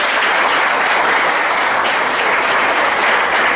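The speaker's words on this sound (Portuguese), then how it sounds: "as palmas que louvam e exaltam o Senhor" A church congregation claps in praise during a thanksgiving service, producing dense, loud, sustained applause that fills the room evenly from start to finish.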